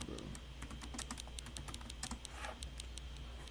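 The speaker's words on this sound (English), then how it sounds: "I'm typing the whole wrong thing" Rapid clicking of keys on a computer keyboard in quick irregular bursts, close by, with a faint low hum underneath.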